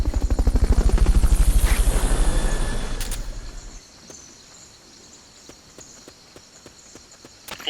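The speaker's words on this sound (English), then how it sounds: "Fulton recovery helicopter is complete." Fulton recovery helicopter in the video game Metal Gear Solid Peace Walker, a loud rapid rotor thump that swells, then fades away, leaving faint ticking game sounds and a few sharp clicks.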